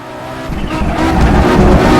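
An Audi Quattro without ABS in the Assetto Corsa racing game locks its tires under braking on the Nordschleife, with a rising engine roar and skidding tire noise growing louder over two seconds.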